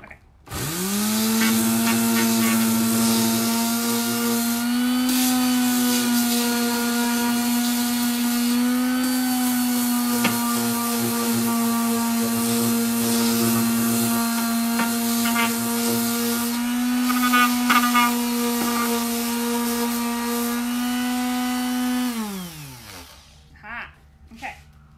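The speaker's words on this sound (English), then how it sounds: "is everyone ready for loud and obnoxious sander here?" An electric sander works over a piece of furniture during a coastal-style finish, a loud, steady motor whine that holds for about twenty seconds, wavers briefly near the end, then winds down and stops.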